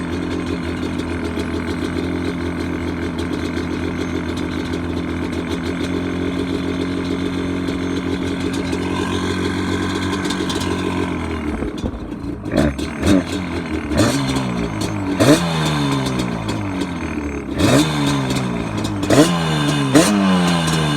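A small engine fitted with cheap aftermarket cylinders runs on choke, first a steady, loud, buzzy idle, then a series of sharp, repeated revs rising and falling close by.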